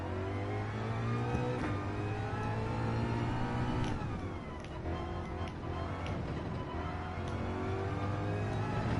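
Synthetic race car engine in a racing video game, revving and shifting gears, a continuous tonal drone rising and falling with a few sharp ticks, no one speaking.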